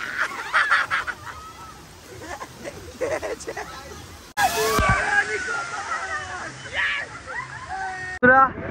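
At a water park, a big bucket dumps water with loud sloshing and splashing amid screaming, shouting crowds, with bursts of rushing water cutting in and out.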